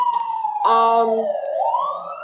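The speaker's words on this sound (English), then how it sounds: "Here comes the siren, so forgive me." Emergency vehicle siren wailing on a downtown Los Angeles street, a loud, steady tone that sweeps downward, rises again and then holds high, heard close and continuous with no talk over it.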